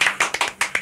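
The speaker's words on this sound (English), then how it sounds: "Golf clap" A small studio audience at a radio station gives a sparse golf clap, a handful of light, close hand claps in an uneven rhythm with no voices.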